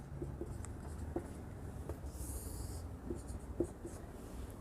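Pen scratching across paper by hand while an accounting entry is filled in, a faint continuous scribble with a few light taps of the pen, steady and close against a quiet background.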